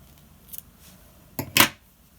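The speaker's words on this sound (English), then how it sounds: "Put my needle to one side and just snip off that end," Scissors give a couple of crisp, close snips as they cut off a yarn end on a crocheted cat toy, with a faint click just before in an otherwise quiet room.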